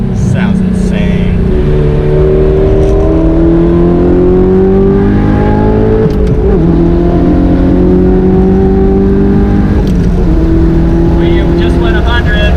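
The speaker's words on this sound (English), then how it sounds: "Of course, the Armytrix titanium exhaust. Sounds insane." Audi R8 fitted with an Armytrix titanium exhaust revs hard on a race track, a loud, sustained engine howl rising and falling through gear changes across the whole stretch, with no pauses.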